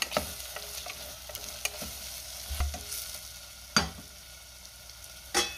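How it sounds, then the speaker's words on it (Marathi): Red chili, garam masala and coriander powder being stirred into masala in a pan, with a soft sizzle under scattered spoon scrapes and taps, close and quiet. "लाल तिखट, गरम मसाला, धने पावडर, हे सुद्धा सगळं व्यवस्थित मिक्स करून घेऊया।"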